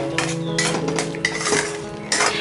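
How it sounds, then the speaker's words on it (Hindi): Spoon scraping and clinking against a steel kadhai as masala for mutton fries in oil, a run of sharp metallic taps and stirs, close and clear with no talking. "ये जो मसाला है इसे अच्छे से तेल छूटने तक हम फ्राई करेंगे"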